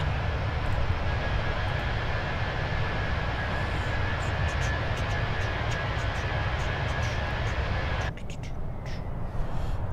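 Steady broadband roar of a Fenix A319 airliner flyby in Microsoft Flight Simulator 2024, a loud continuous engine rumble over the airport that cuts off abruptly near the end, leaving quieter background.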